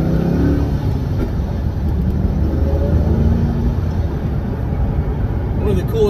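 A 2005 Ford GT with a supercharged engine accelerates, a loud deep rumble with rising engine tones heard from inside the car, with speech over it.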